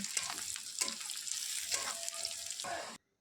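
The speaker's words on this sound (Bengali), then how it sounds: "তারপরে এই পেঁয়াজগুলো পুরো লালচে লালচে করে ভেজে নেব" Onions and dried chillies fry in mustard oil in a pan, a steady close sizzle running for about three seconds with a few brief stirring scrapes, then cutting off abruptly.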